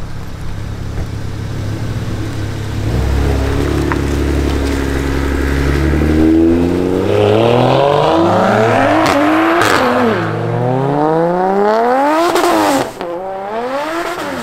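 A car launching hard at a car meet: engine noise climbs through repeated revving sweeps and gear-change drops, loud and close, with a brief squeal, and no talking.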